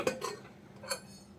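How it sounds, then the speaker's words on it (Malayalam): A pressure cooker's metal lid is handled and opened after the dal inside has cooked and cooled, giving a few light metallic clinks and taps close by, with no voices. "കുക്കർ നന്നായിട്ട് തണുത്തിട്ടുണ്ട്. നമുക്കിനി ഒന്ന് തുറന്ന് നോക്കാം."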